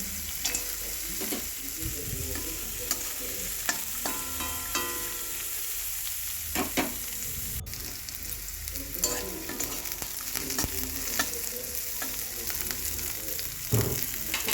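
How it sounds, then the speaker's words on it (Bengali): Raw peanuts fry in hot oil, a steady close sizzle with occasional stirring scrapes and clinks over the full stretch. "এখানে আমি কিছুটা পরিমাণে বাদাম নিচ্ছি কাঁচা বাদাম যাকে তেলের মধ্যে ফ্রাই করে নেবো"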